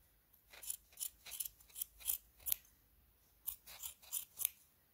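Scissors snip close by in quick irregular bursts, several sharp cuts in a row, a short pause, then another run of snips.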